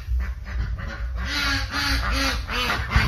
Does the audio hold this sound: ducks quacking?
yes